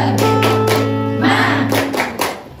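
A group claps a rhythmic tepuk semangat cheer in a classroom, several quick sharp claps in a pattern, loud and close over a sustained tonal hum, ending in a final clap that fades.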